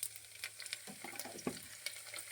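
Chopped onion and tomato fry in a pan, a quiet close sizzle broken by a few soft stirring scrapes and crackles.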